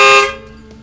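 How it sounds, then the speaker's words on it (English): One short, loud, blaring car air horn blast that quickly cuts off and fades into a quiet hum. "that's the new air horn."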